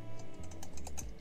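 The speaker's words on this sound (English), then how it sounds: "Now he's pinging on the keyboard like me." A pet animal presses keys on a computer keyboard, giving a quick run of irregular close clicks and taps over about a second, with a steady low hum in the background.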